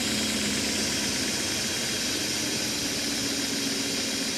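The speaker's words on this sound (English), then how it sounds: "Engine's running." BMW car engine running after a fuel injector cleaning, a steady close idle hum with a constant broadband roar and fan whir, no speech.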